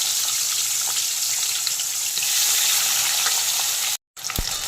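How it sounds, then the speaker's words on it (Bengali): Pabda fish sizzling loudly in hot mustard oil in a pan, a steady crackling hiss that drops out briefly near the end before resuming. "তেল গরম হয়ে গেছে পাবদা মাছটাকে ছেড়ে দিলাম"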